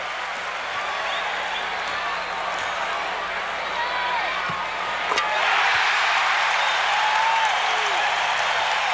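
A sellout basketball arena crowd of over 15,000 in Orlando roars and applauds during a 1989 Magic versus Pistons game, a dense, steady wall of cheering that grows louder toward the end.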